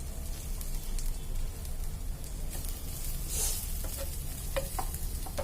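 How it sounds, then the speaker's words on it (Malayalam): Fried chicken is added to masala and stirred in the pan, making a steady close sizzle and hiss with scraping strokes and a few light clicks toward the end. "ഇനി ഇതിലേക്ക് നമ്മൾ നേരത്തെ വറുത്ത് വെച്ചിരിക്കുന്ന ചിക്കൻ ചേർത്ത് കൊടുക്കാം."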